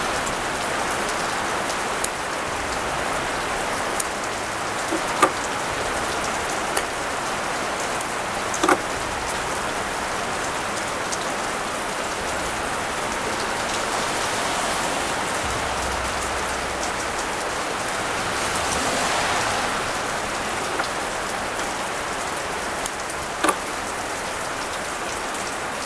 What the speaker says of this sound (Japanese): 雨の音が入りますか？